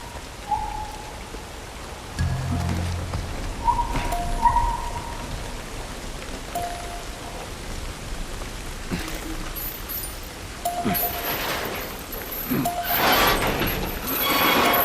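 Rain falling in The Last of Us, a steady hiss of rainfall on surfaces running the whole time, with occasional low rumbles and brief game sound effects layered over it, no voices.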